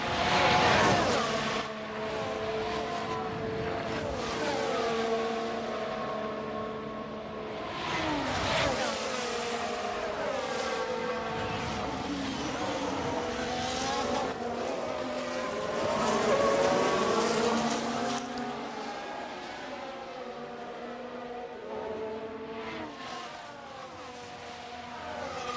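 Formula 1 cars from the racing game F1 Manager 23 at Monza scream past in a continuous, loud stream of high-revving engines, with pitch sweeping up and down as cars pass and shift gears.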